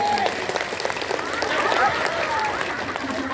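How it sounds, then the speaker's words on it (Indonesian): Congregation in a mosque, Masjid Jami Al Hidayah in Ciasem Hilir, applauds during a sermon, a dense continuous wash of clapping with voices mixed in throughout. "Tepuk tangan dulu."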